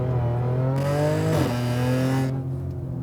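A supercharged 500+ horsepower Audi S4 accelerating hard, its engine note climbing steadily, dropping briefly at a gear change, then rising again, heard loud and close from inside the car with no talking.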